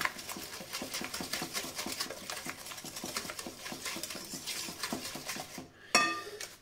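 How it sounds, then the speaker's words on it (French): Vanilla cake batter with sugar being whisked hard in a bowl: fast, regular scraping and clinking strokes against the bowl, quiet and rhythmic, ending with a brief clatter. "On mélange énergiquement."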